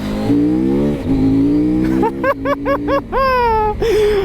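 A 2023 CFMOTO Ibex 800T motorcycle engine revs hard through several rising gear pulls, with short choppy bursts as it accelerates into a power wheelie. It is loud and close, with no talk.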